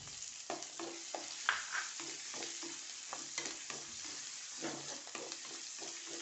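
Garlic and ginger fry in hot oil in a pan for a jackfruit seed masala curry, a close, steady sizzle broken by repeated scraping stirs of a spoon.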